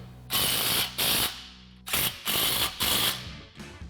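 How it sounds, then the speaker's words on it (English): A ratchet with an 11mm socket tightens an exhaust bolt on a Sierra 1500, giving several quick bursts of clicking separated by short pauses, close and clear. "using our 11mm socket, we can now tighten this down"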